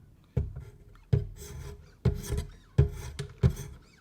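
A Kershaw Fraxion knife is sharpened on a Wicked Edge sharpener with 800 grit stones, giving five quiet, evenly spaced strokes. Each stroke opens with a light tap and then a short gritty scrape, with no voices.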